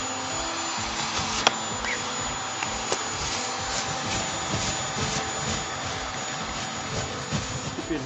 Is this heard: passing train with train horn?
no